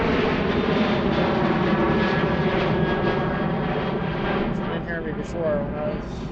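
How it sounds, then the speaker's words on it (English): A Southwest jet airliner takes off at Philadelphia airport, giving a loud, steady broadband engine roar that holds throughout and eases slightly near the end. "So we're going to have back-to-back-to-back takeoffs here."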